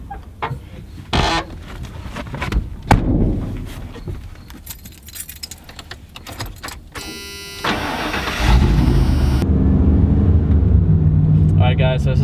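A 1996 Ford F250 pickup with a reverse-shackle front lift is started up close after keys jangle and clunks, the cranking catching into a loud steady idle, with someone talking over the early part.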